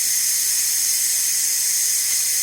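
Steam escapes with a steady, loud, unbroken hiss from a pot of butternut squash and green beans cooking, close by and with no talk over it.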